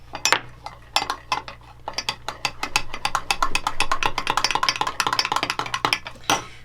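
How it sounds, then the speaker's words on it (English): A utensil scrapes and clinks rhythmically against a bowl, stirring butter together with Dijon mustard in quick, steady strokes that sound close and clear, with no talking. "I have 2 tablespoons of butter, and I am mixing them with 2 tablespoons of"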